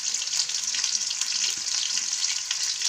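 Mint, tomato, cinnamon, cloves, green chilies and garlic fry in a steel pan, giving a loud, even, continuous hiss of sizzling oil with a few soft stirring knocks.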